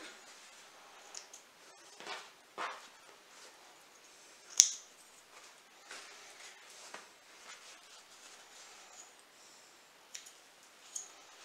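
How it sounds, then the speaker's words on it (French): Scissors snipping loose sewing threads on fabric baby booties or slippers, a few faint sharp snips and clicks spaced out against a quiet background. "On peut couper tous les fils."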